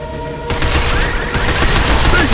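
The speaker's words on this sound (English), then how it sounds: "Stop them by shooting their legs." Dense, loud gunfire from the third-person shooter Binary Domain, a sustained fusillade of rapid shots and bursts that runs throughout without break, busy and close with no clear speech over it.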